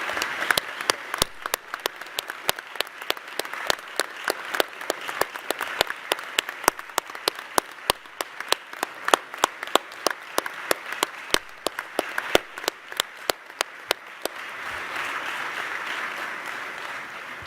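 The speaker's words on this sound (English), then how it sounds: "please join me in a round of applause for all these young scientists and for the start of IID 2018" A conference audience claps at an opening ceremony. Sharp individual claps ring out in an uneven, sparse rhythm for most of the stretch before giving way to a softer, fuller rustle of crowd noise near the end.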